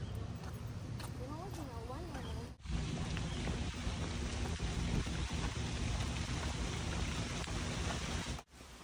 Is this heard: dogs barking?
no